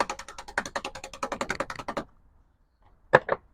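A freshly cleaned paintbrush is shaken hard to fling off excess paint, making a fast run of rattling flicks for about two seconds, then a pause and two sharp snapping flicks close by.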